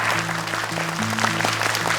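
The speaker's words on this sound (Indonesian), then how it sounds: "Boleh tepuk tangan Kak Nabila yang selalu memberikan koreksi" Clapping from a studio audience on an Indonesian Quran-memorization television competition, brief and fairly loud, with a sustained musical tone running underneath.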